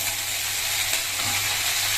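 Shredded cabbage, cut fairly thick and seasoned with salt and turmeric, fries in a pan while being stirred, giving a steady, close hiss of sizzling throughout with no talk.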